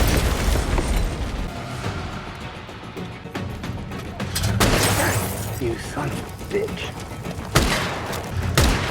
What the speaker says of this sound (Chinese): 运气不错，刚转身离开，车就爆炸了。